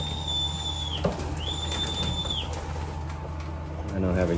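Homing pigeons returning to the loft after a training toss, with bursts of wing flapping and soft pigeon sounds over a steady background hum, plus a couple of drawn-out whistling tones.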